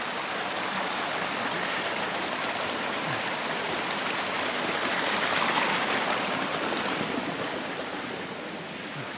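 A steady, broad rush of flowing water from Dale Creek on the Continental Divide Trail, continuous and fairly loud throughout, with no voices.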